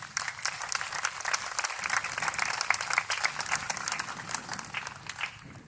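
Steady applause from an audience at a city band concert, many hands clapping at once in a continuous, fairly even patter with no voices standing out.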